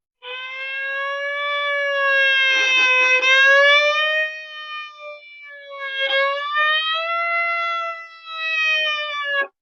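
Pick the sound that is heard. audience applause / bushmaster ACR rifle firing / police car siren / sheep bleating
police car siren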